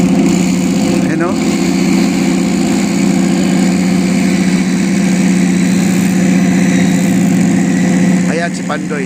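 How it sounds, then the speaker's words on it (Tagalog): A small but powerful engine runs at a steady, loud idle close by for the whole stretch, a constant droning hum, with voices faintly present. "Napakaliit lang to pero napakalakas na makina."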